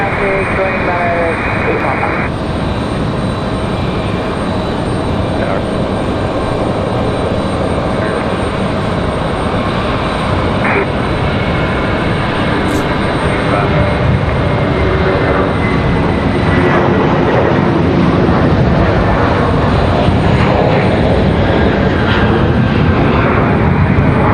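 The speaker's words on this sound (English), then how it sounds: "Looks like we got an American A321 on the move." An American Airlines Airbus A321 jet taxis at Raleigh-Durham International Airport, a steady, loud engine roar that fills the whole stretch and swells slightly toward the end, with outdoor rumble and no other clear sounds.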